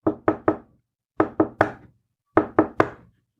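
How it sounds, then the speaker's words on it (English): Sharp knocks rap in three quick groups of three, each burst a little louder, with short silences between groups. "The rapping grew louder with every second."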